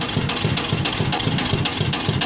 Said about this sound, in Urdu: انجن کی آواز بہت زیادہ ہی ہے